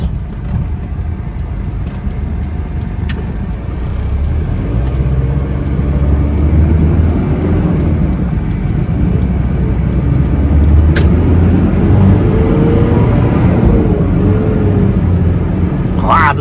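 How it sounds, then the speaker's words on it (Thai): A Mitsubishi Strada 2500cc pickup with power steering accelerates along a main road through third into fourth gear, its loud engine drone climbing in pitch with each pull, heard from inside the cab. "ขออัดทำความเร็วหน่อยนะครับ นี่เกียร์สามนะครับเสียบเกียร์สี่แล้วนะครับ"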